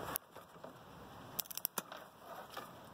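A knife cutting into a stripped fiber optic drop cable during a fiber-to-the-home install gives close, quiet snips and clicks, a few sharp ones clustered in the middle, with no talking.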